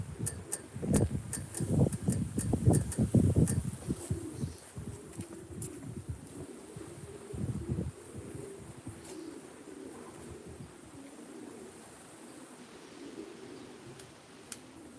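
Racing pigeons coo in soft, repeated throaty pulses, busiest at first and then thinning to sparse, quieter calls against a faint background hum.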